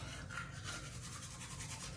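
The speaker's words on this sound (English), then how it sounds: "you take your toothbrush with that carefully applied toothpaste and you actually put the toothbrush in your mouth" A toothbrush with toothpaste scrubs teeth inside a mouth, a steady close-up rasping and rubbing with quick back-and-forth strokes that continue throughout with no talk.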